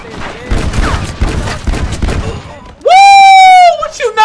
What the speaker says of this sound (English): What you know about getting that shotgun to the face?